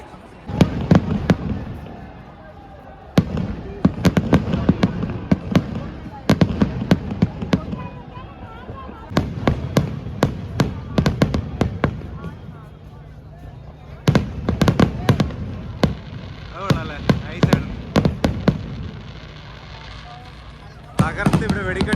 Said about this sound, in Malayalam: കളർഫുൾ ആയിട്ടുള്ള വെടിക്കെട്ടുകളാണ് ഇവിടെ കണ്ടുകൊണ്ടിരിക്കുന്നത്